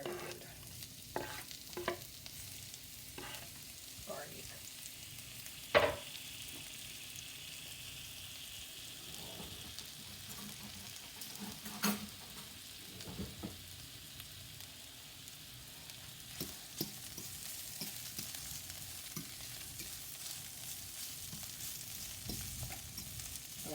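Garlic and seasoning fry in oil in a pot, giving a steady sizzle throughout with occasional sharp clinks and scrapes of stirring. No voices.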